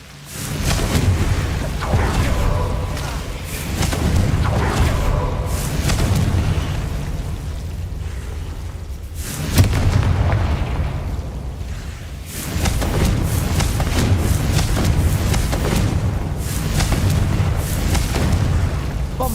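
Confringo blasting spells going off in Hogwarts Legacy combat: a dense run of loud, close booming explosions over about twenty seconds, with a sharp burst near the midpoint and a brief lull before another barrage.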